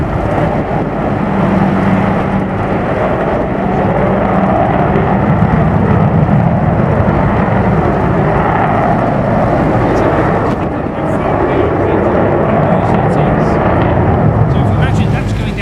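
An Avro Vulcan bomber performs a flying display at RIAT 2012; a loud, continuous, rumbling jet roar fills the whole stretch, while a commentator's voice runs over it.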